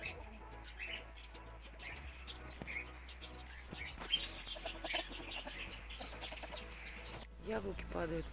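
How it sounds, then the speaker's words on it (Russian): Chickens cluck and chirp softly at a distance, scattered short calls in a quiet outdoor setting. "Куры."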